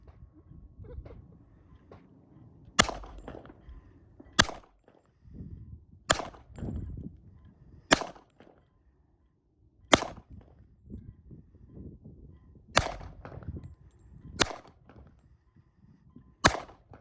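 Glock 27 pistol shots fired outdoors, about eight sharp, loud cracks spaced one to two seconds apart, with rustling and low handling noise between them.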